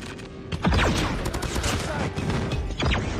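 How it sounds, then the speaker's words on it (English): A friendly airstrike in a first-person shooter game, a rumbling run of explosive booms and crackling blasts with heavy low-end bursts, loud and close against continuous battle noise. "Friendly airstrike incoming."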